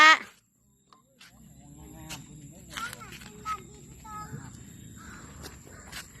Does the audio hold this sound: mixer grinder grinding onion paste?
no